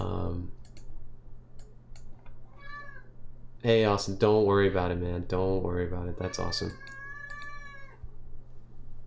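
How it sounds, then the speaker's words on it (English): A house cat meowing for attention in a home studio, several drawn-out meows close to the microphone between and over a man's speech, with light clicks in the background. "If you're hearing that, that is my cat meowing for attention."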